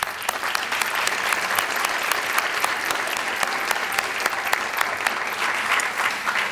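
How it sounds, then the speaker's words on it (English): Audience applause at an evening speech event, a steady, dense wash of many hands clapping continuously at moderate loudness with no voices over it. "Let's all give them one more round of applause."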